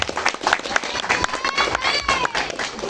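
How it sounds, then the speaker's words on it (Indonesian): An audience at a neighbourhood community gathering claps in a dense, uneven patter with a few louder near hands, brief and moderately loud, mixed with crowd murmur. "Matur tepuk tangan buat Pak Karsono"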